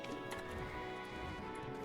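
A horse's hooves clip-clop in Black Desert Online, a faint run of quick, even hoof taps lasting under two seconds, with no speech over them.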